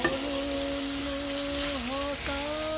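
Spices with turmeric frying in a pan for a kohlrabi curry give a steady, close sizzle throughout, with a sustained tonal whine running above the hiss.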